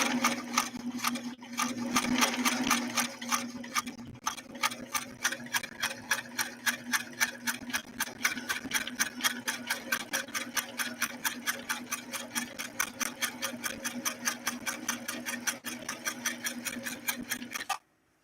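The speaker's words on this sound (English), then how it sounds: "I'm going to try to really hold my speed back just so that the machine has a little bit more time to lay down those tight stitching patterns" A vintage Singer Stylist sewing machine runs at a deliberately held-back speed, laying tight stitches in a steady, even needle rhythm that continues throughout and then abruptly stops.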